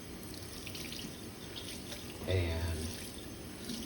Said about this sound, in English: I have a faucet of hot water